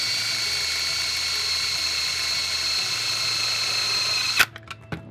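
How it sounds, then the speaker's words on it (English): A power drill drives self-tapping screws through plastic into a bracket while installing an RV backup camera, giving a steady, loud whining spin that stops abruptly near the end, followed by a few sharp clicks. "I'm just using self-tapping screws to go through the plastic into that bracket"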